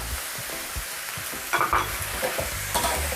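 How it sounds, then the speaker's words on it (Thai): Pineapple chunks stir-fried in a pan for a sweet-and-sour chicken dish, a close, busy sizzle broken by repeated rhythmic scrapes and clatters of the spatula, with louder strokes toward the end. "ผัดสับปะรดก่อนนะคะ"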